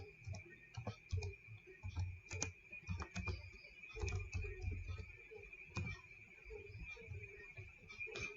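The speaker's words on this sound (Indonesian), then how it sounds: "kita bisa ketikkan show database" A database command is typed on a computer keyboard, heard as irregular bursts of quiet, close key clicks over a faint steady hum.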